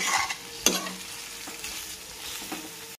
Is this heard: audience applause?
no